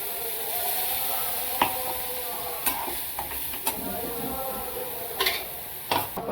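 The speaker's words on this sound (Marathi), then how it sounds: "टोमॅटो छान परतून घ्यायचं वाटण केलेलं परतून घेऊ" Tomatoes and ground masala paste sauté in a pan for a black dry peas gravy. A steady soft sizzle runs throughout, broken by several sharp clicks and scrapes of stirring.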